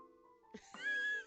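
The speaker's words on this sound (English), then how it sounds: "Don't you meow at me." A pet cat gives a short, clear meow close to the microphone, rising into a sustained, slightly plaintive cry.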